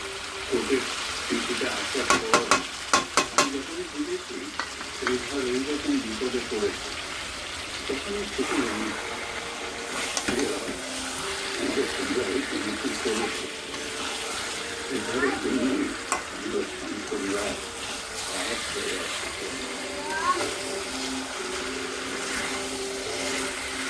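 Chili paste fries in oil with chicken for khichuri in a pan, a continuous sizzle broken by scraping stir strokes and occasional utensil clinks, with a voice talking intermittently over the cooking.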